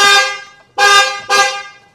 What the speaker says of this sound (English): Now it's going to honk.